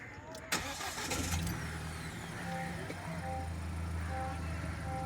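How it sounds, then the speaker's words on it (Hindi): A Mahindra Scorpio N petrol engine cranks and catches with a quick burst, then settles into a steady, low idle hum that continues throughout. "मैं भी स्टार्ट करता हूँ गाड़ी को, करो आप। तो आप चेक करके देखिए जो इसकी साउंड है।"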